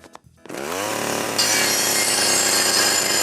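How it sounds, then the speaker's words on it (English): Cartoon chainsaw starting with a few sputters, then revving into a loud continuous buzzing whine that rises in pitch and grows harsher as it bites into wood, close and dominant. "Chainsaw!"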